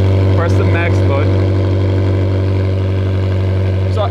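Close and loud, an exotic car engine runs at raised revs with a steady droning tone and a few brief voices early on.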